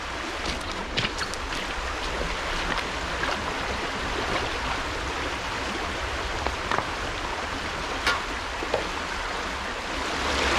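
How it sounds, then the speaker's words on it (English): A shallow, clear Scottish stream running low rushes steadily over gravel and rocks, a continuous close broadband babble with small splashes and no voices. "today this stream really is running quite low. The water's beautifully clear"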